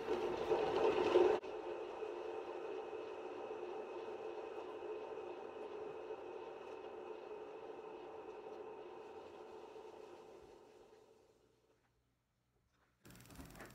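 A motorized canvas spinner whirs steadily as it spins an acrylic paint pour in greens and gold, holding an even hum before slowing and fading to silence, with a brief noise at the very end.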